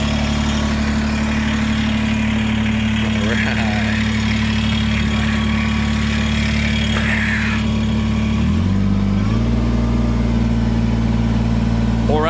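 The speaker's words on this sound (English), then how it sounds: "let's get on the tractor and go get the dirt" A farm tractor engine idles loud and close, a steady low rumbling drone that shifts pitch slightly near the end as the revs change, with a brief spoken remark over it.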